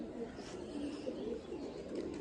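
Domestic pigeons from Gazipur cooing softly in a continuous low, throaty murmur, fairly faint and steady throughout, with no talking.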